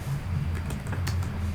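Quick clicks of typing on a computer keyboard while a Minecraft command is entered, a short close run of light taps over a low background hum.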